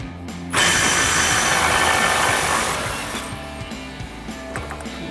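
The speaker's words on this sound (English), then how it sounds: "Next we're going to remove our axle nut itself, and we're going to grab our 36 millimeter socket to do so." A power tool driving a 36 mm socket spins off the front axle nut of a 2005–2009 Mustang GT, with a loud, sustained, rattling mechanical whir that starts abruptly and eases slightly toward the end.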